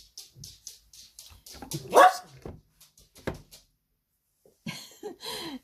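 A dog barks a few times nearby, short sharp yaps scattered among quiet pauses, with some faint clicks and shuffling.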